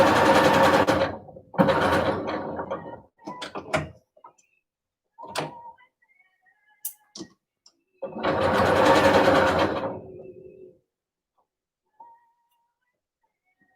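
A sewing machine stitches a tag point with several bursts of steady whirring, two long and loud runs and shorter ones between, separated by quiet pauses with small clicks and taps.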